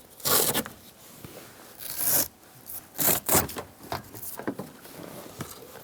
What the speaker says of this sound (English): Now just grab this panel, pull it straight up. It is Velcroed to the back of the seat.